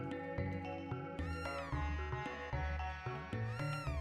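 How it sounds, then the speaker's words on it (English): A cat in Chrono Trigger meows repeatedly in rising, wavering cries, loud and close, layered over the game's tonal music with no talk. "Cat's going crazy."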